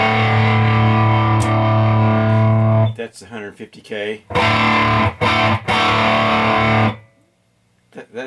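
An electric guitar through a homemade Marshall Plexi clone amp rings with a loud, sustained distorted chord, then choppy strummed bursts. Someone speaks briefly in the gap between them.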